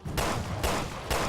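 Three rapid gunshots from the video game Resident Evil: Revelations 2, each a loud, close, sharp blast with a brief tail, evenly spaced about half a second apart.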